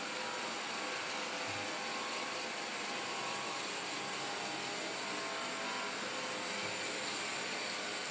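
A Roborock robot vacuum-mop cleans a kitchen floor, giving a steady, even whirring hum throughout with no breaks or speech.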